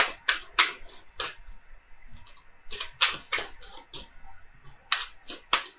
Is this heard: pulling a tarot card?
yes